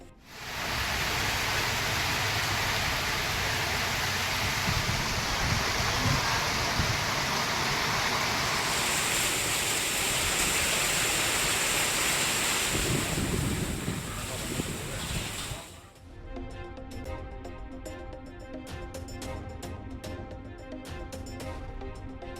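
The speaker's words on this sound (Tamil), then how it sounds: "மதுரை மாவட்டம் உசிலம்பட்டி சுற்றுவட்டாரத்தில் காற்றுடன் கூடிய கனமழை" Heavy rain driven by wind around Usilampatti in Madurai district, a loud, steady broadband rush that fills the first fifteen seconds before giving way to a different, sparser sound.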